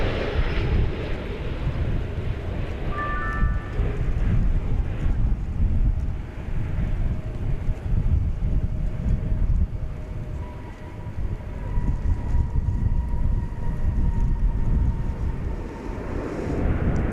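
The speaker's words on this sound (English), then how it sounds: "Here comes American flight number 415 from Austin, Texas. It's a MAX 8." An American Airlines Boeing 737 MAX 8 arriving at DFW Airport, a broad steady jet roar that swells and lingers with wind buffeting the microphone, heard from outdoors with no voices.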